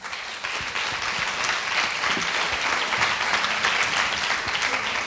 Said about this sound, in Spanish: Un fuerte aplauso para Gloria.